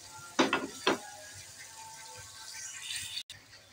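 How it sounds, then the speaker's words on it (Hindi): Spiced paste for a chicken daliya frying in a pan, a steady low sizzle running throughout with two sharp scraping or stirring bursts near the start and a brief cut near the end. "अब हम ये मसाले भून लेंगे हमने जो पेस्ट करके रखे थे।"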